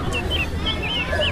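A hen clucks in short, repeated bursts, close and clear, over a steady bed of background sound.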